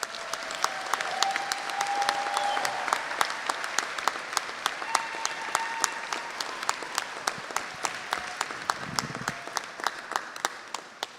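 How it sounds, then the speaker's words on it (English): Audience applause at a graduate convocation ceremony, steady clapping from a large crowd filling a hall throughout, with sharp individual claps standing out near the front. "Let's give Dr. another round of applause."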